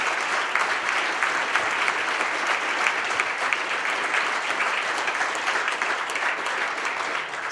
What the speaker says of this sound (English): if I could get a round of applause for the county executives